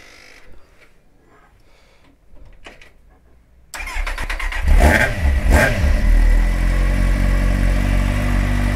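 A KTM 690 SMC R single-cylinder supermoto is started up close, its engine catching abruptly and settling into a loud, steady idle with a few blips of revving, after quieter rustling and handling noises.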